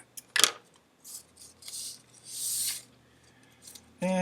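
Scissors cutting through folded paper, a few crisp snips and crunchy slicing strokes spaced out over several seconds, close up and fairly quiet, with a brief voice at the end.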